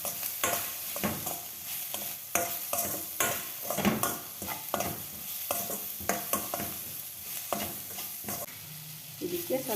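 Ridge gourd curry with chilli powder and salt sizzles steadily in a pan while a utensil scrapes and stirs it in frequent irregular strokes, close and fairly loud, with no voices.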